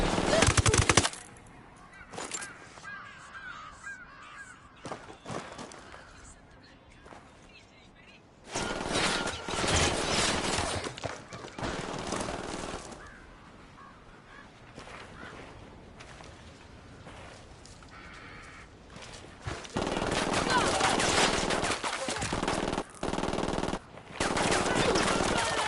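Machine gun fire crackles in sustained bursts, loud and close, with a few gaps between volleys and shouting voices mixed in.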